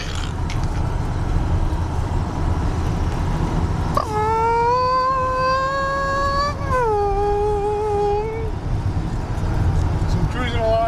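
A 1984 Dodge Ram Prospector truck with a slant six engine cruising at about 50 mph: a steady low road and engine rumble, with a wavering mechanical squeal that rises and then drops in pitch midway through.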